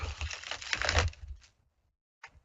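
Tarot cards being shuffled, a quick burst of rapid riffling and flapping card noise for about a second and a half, then quiet, followed by a short final tap of the deck.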